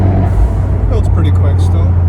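A Fiat 124 Spider Abarth with an Eurocompulsion Phase 3 big turbo pulls on low boost around 2,500 RPM, its engine a loud steady drone heard from inside the cabin.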